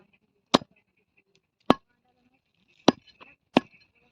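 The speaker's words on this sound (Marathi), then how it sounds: "मटण बारीक बारीक तोडून बुगल्यामध्ये टाकते" Mutton is chopped finely by hand for a village fair feast, with four sharp, close blade strikes against a board, spaced irregularly amid quiet and small clinks between them.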